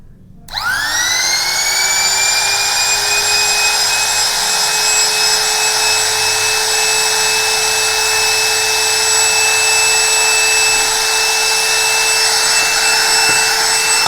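A Dongcheng DMP02-6 trimmer router spins up quickly and runs without load, giving a loud, sustained high-pitched whine with steady tonal harmonics that continues unchanged close to the listener.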